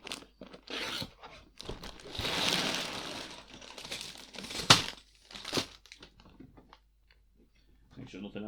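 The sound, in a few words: cutting open the taped Lego Minecraft set box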